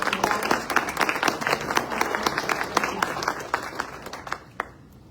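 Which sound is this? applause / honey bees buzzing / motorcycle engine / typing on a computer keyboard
applause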